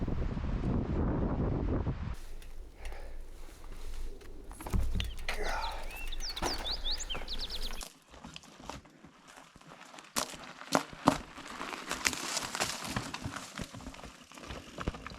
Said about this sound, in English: It can also get windy up here